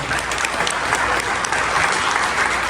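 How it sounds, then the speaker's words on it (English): Steady, loud applause from a crowd at a community meeting, continuous clapping filling the whole stretch without a break. "I just want to give a round of applause to Officer Neil Sampson."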